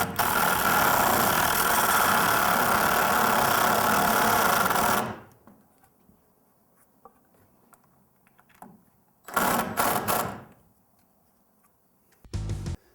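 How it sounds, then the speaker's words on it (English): A power drill drives a screw into the stud of an exterior prehung door frame, first in one long steady whir lasting about five seconds, then after a pause in two shorter bursts, close and loud. "Now I'm going to put the screw in the top where we said we're going to put it in because it's up against the stud."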